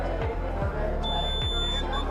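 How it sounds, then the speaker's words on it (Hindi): A warning buzzer on a student driver-drowsiness detection project at an exhibition sounds a steady high electronic tone that starts partway through, over a background of room chatter and noise. "ये बजर इसलिए है कि सर अगर ड्राइवर बहुत ज़्यादा नींद में है तो बजर का आवाज़ से वार्निंग समझ जाए"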